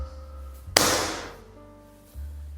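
A single sharp crack from a Canon 808 pump air rifle fired at a target, loud and close, followed by a fading noisy tail over a low steady hum.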